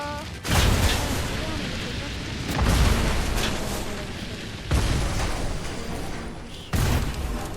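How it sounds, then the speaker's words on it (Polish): Explosions keep going off in a Fortnite match, a series of four heavy, broadband blasts spaced a couple of seconds apart, each followed by a rumbling tail. "O, tu dalej wybucha."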